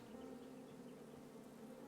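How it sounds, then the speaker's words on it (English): Bees buzz around a beehive in the King's Quest 2015 video game, a soft, steady, continuous hum that stays faint throughout. "Bees! I ruined the bees' day."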